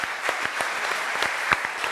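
Studio audience applause at a German sports talk show, a steady wash of clapping with sharper individual claps standing out, sustained throughout without talk.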